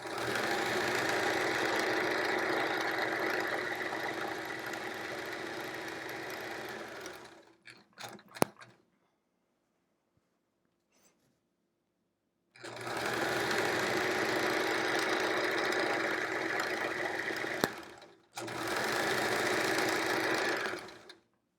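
A domestic sewing machine stitches quilt fabric with a steady, close mechanical whirr in two long runs, separated by a quiet pause with a few clicks and knocks as the fabric is adjusted.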